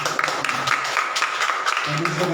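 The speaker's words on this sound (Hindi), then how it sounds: "क्यों ना जोरदार ताली हो जाए हमारे गली से।" Church congregation clapping together in a brisk, steady burst of applause, close and moderately loud, with voices mixed in underneath.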